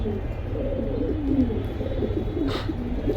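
Pigeons in a seller's collection coo softly and repeatedly, near and moderately loud over a low background hum, with no clear talk.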